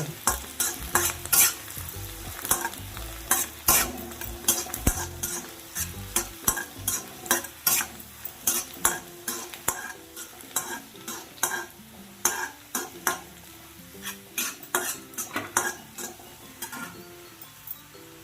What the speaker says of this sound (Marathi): लसणीचे तुकडे घालते हे चांगले परतवायचे